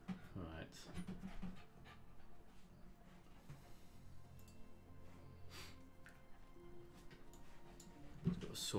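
A dog pants steadily at close range through most of the stretch, soft rhythmic breaths sitting under a low room hum, with a brief louder knock near the end.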